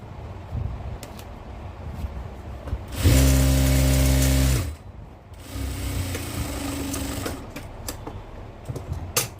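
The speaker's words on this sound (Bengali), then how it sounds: "নিচে যে গেটটা আছে গেটটা এখন সেলাই করব আগে একটা সেলাই দিয়ে" A sewing machine stitching a petticoat hem runs in one loud, steady burst of rapid mechanical whirring, then stops, followed by quieter handling noise and faint fabric rustle.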